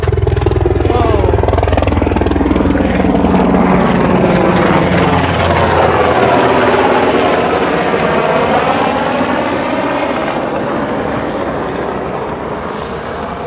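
A big helicopter passing low overhead, a loud rotor and engine roar with a pulsing beat that swells and then slowly fades as it moves away, heard outdoors close by.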